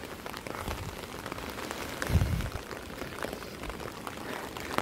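Steady rain pours down in an Italian mountain village among the houses of Cividate and Malegno, a dense, even hiss of drops hitting surfaces, with a brief louder splash midway and no talking.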